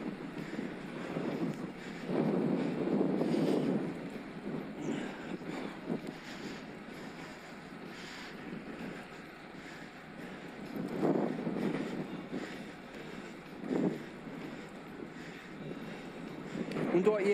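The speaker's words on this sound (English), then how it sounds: "It's super windy." Strong wind buffets the microphone while riding a Scott Addict RC eRide electric road bike in gusty crosswinds, a steady low roar with louder surges around 2–4, 11 and 14 seconds.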